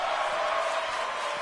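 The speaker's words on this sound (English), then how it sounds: "the crowd chanting, "This is awesome! This is awesome!"" A large arena crowd at a professional wrestling match, a dense roar of many voices chanting in unison, loud and steady throughout with no distinct commentary over it.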